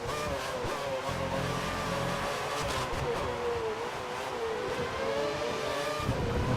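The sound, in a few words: Ferrari 312 T2 race car engine in video game F1 2013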